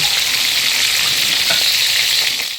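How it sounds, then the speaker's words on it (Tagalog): Tamban fish (lawlaw), fresh and whole, frying in oil in a favorite home pan, giving a steady, close, continuous hiss and crackle with no talking. "yung ating pritong tamban or lawlaw. Nakasalang na sa pinakapaboritong kawali"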